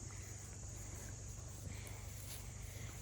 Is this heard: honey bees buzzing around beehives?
yes